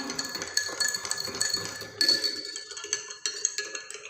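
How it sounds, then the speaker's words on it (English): A spoon clinks against a glass of water while sugar and salt are stirred in, giving a run of light, irregular taps and chimes at close range with no talk. "Now I am going to mix it well."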